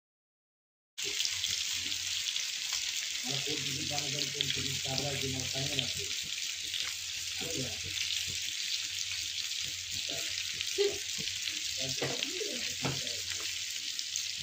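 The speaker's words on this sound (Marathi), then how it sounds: "आता आपण हे तळून घेऊया. माझं तेल गरम झालं." Fish from a river catch frying in hot oil, a steady loud broadband sizzle running throughout, with occasional clinks and low background sounds from the kitchen.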